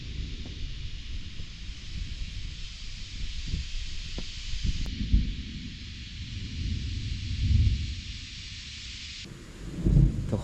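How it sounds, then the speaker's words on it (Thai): Steady hiss of rain over an upland rice field in Thailand, with low rumbling thunder building in waves as the storm approaches, swelling near the end; no voices. "น้ำฝนมันไล่มา"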